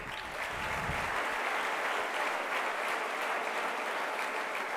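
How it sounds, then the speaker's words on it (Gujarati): An audience in a hall claps loudly for a student at a gurukul gathering. The dense, steady applause carries on for several seconds, alone and with no talk. "આ ભાઈ માટે એક જોરદાર તાળી પાડો"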